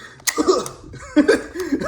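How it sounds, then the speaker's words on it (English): A Batman toy lets out a short series of electronic coughing sounds, close and fairly loud, in quick bursts with a mechanical, slightly voice-like tone. "Looks like he's ready to cough or something"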